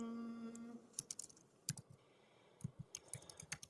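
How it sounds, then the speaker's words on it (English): Quiet typing on a computer keyboard outdoors on a cold day: scattered light key clicks in irregular bursts, faint and close, with no talking. "typing this so that I don't forget it"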